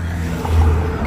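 Cars pass by on a nearby road, one engine swelling loudly and close as it goes by in a brief whoosh.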